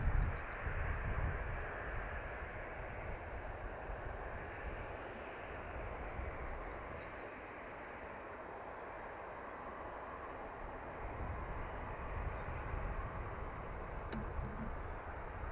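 A departing airliner at Dublin Airport gives a steady broad jet roar, continuous and fairly distant, swelling slightly at the start and toward the end with no talk.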